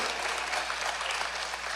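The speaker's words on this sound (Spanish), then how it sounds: "Yo creo que la gente atrás se despertó también y aplaude más fuerte." A church congregation applauding, dense continuous clapping from a large crowd that holds steady and fairly loud for the whole stretch, with no speech on top.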